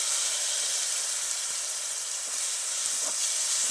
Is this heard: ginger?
yes